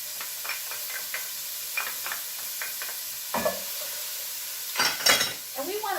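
Chopped garlic and vegetables fry in oil with a faint, steady sizzle while a utensil taps and scrapes the pan in light, spaced strokes. A voice speaks briefly over the cooking toward the end.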